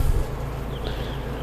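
Steady close buzzing of bees, a dense continuous drone with faint higher whines drifting through.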